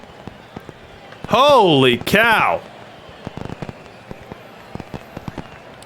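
Fireworks crackle after a home run at a baseball game in the Perfect League World Series, a scatter of sharp, separate pops spread over several seconds, just after a brief exclaimed voice.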